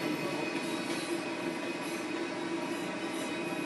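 A long 100-coach train rolls steadily along the rails on the Manchester Victoria to Leeds line, a continuous loud rumble with a high wheel squeal running throughout and no voices.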